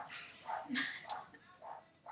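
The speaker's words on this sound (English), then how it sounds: "Please excuse my dog barking in the background." An excited dog barks and yips in the background in a few short bursts over about two seconds, fairly faint and mixed with other household sound.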